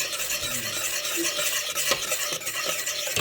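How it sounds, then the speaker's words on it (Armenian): Cream with egg yolk is stirred quickly on a stovetop: a spoon scrapes and swirls steadily against the pot under a continuous low sizzle, close and fairly loud, with no talking. "Արագ խառնում ենք, որպեսզի ձվածեղ չդառնա։"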